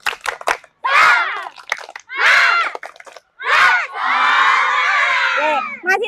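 Children chant and clap together in a rhythmic spirit cheer, voices rising in short bursts with claps, ending in a long sustained group shout.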